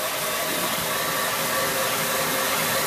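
Belt grinder fitted with a heavy 36 grit belt, spinning slowly at 500 RPM, giving a steady broadband whoosh and hiss that holds even and loud from start to finish with no voices.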